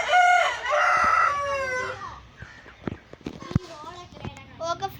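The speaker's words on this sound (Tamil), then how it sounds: "பாருங்க ஃப்ரெண்டு கோழி" Chickens in a yard in Kanyakumari, India: a loud rooster crow at the start, then scattered clucks and short calls, with a voice and an adult talking over them.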